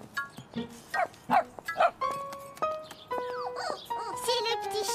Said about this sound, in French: C'est le petit chien.